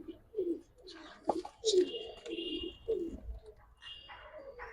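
High flyer and giribaj pigeons in a fancier's collection coo close by in low, rolling throaty calls repeated through the moment, with a few sharper chirps and faint background noise.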